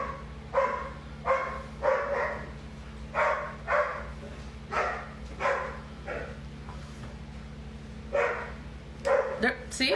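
A dog barks repeatedly in irregular bursts, sometimes doubled, at moderate distance over a steady low background hum.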